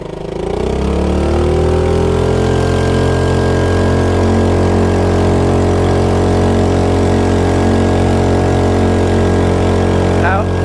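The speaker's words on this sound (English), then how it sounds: "it's an air-cooled engine, you haven't got an underwater exhaust or any impeller helping to deaden the sound" A small air-cooled 2.3hp petrol outboard engine roars loudly and steadily at high revs, close up, with a constant droning buzz throughout and no underwater exhaust to muffle it.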